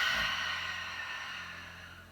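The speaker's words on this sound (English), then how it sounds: "Now an even louder exhale out." A loud, breathy yoga exhale pushed out through the mouth starts strong and then fades steadily over about two seconds, close and alone.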